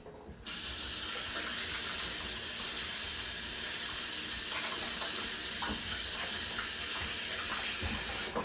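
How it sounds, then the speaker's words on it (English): Hands washed under a running kitchen tap during chocolate ball preparation, a steady close hiss of water with light splashing and occasional drips. "give the hands a quick wash"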